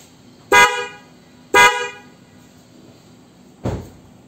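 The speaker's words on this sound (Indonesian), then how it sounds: "Kita tes lagi klakson ya teman-teman, agak nyaring, agak panjang." A Denso snail horn fitted to a Wuling Confero car honks three times, two loud bursts about a second apart and then a shorter, weaker toot after a pause, with no talk over it.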